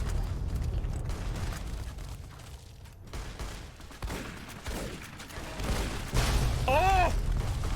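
Gunfire aimed at a robot in Fallout New Vegas, a dense run of rapid shots rumbling low and steady throughout, with a brief warbling electronic tone near the end and a voice faintly mixed in.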